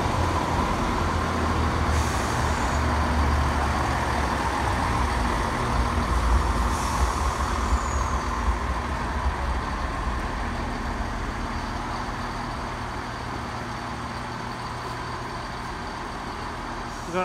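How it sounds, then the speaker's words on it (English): Class 170 diesel multiple unit pulling into platform 3 at Leicester station, a steady loud low engine rumble and rolling drone with faint brake hiss, sustained throughout and slowly easing. "class 170 coming in on platform 3"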